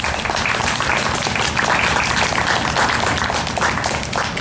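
Students and families at a fifth-grade culmination ceremony applaud Silver Principal's Award honorees, a continuous, full wash of many clapping hands filling the room at a steady level throughout.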